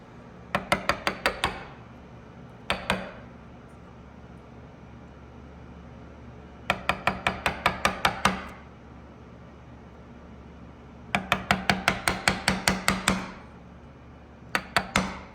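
Mallet blows driving a chisel to chop out a dovetail in a wooden board, sharp woody knocks in quick bursts of five to ten strikes separated by pauses, close and crisp over a faint steady background hum.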